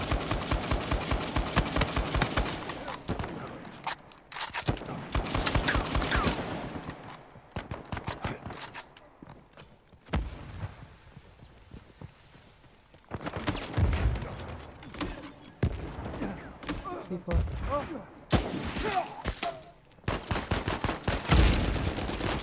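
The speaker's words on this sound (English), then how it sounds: "He's just blind firing" Blind gunfire in Uncharted 4 multiplayer team deathmatch: long rapid bursts of automatic fire in loud stretches, broken by quieter gaps with mechanical clatter, then heavy firing again.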